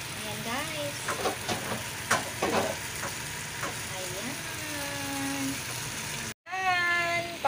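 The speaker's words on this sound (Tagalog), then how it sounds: "Sakot siya lang natin hanggang lumabas yung sarili niyang mantika, yung chicken natin." Chicken pieces stirred in a pan and frying in their own rendered fat for lemongrass tinola, giving a continuous close sizzle with scraping stir strokes beneath someone talking.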